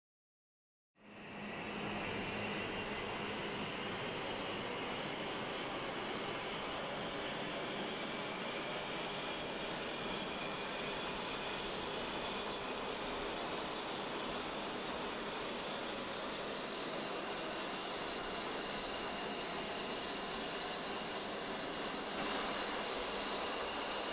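Auxiliary power unit of an A-10C jet starting in the DCS flight simulator game: a broad steady turbine whine and rushing roar that kicks in abruptly after a second of silence and holds level, loud and close, with no talk.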